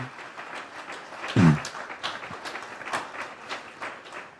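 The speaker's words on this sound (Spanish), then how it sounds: "Démosle un aplauso a Jesucristo." A church congregation applauds during a sermon with soft, scattered claps at moderate distance and a short vocal exclamation early on.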